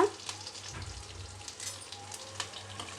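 Mustard seeds, dried red chillies, cumin and curry leaves fry in hot oil for a chutney tempering, giving a steady, faint sizzle and crackle with a few soft pops throughout.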